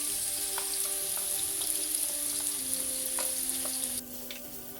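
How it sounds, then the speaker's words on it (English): Sliced onions fry in oil in a pot with a steady, close hiss of sizzling, a few soft crackles and pops, and a light stir of utensils; the sizzle drops slightly in level near the end, with no talk. "we have put oil and put the sliced onions and fry it nicely"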